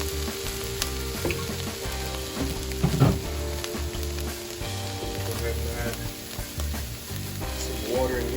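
Beef and potatoes for a beef curry sizzle steadily in a pan, a close continuous frying hiss with occasional stirring clatter, and a brief voice speaks over it.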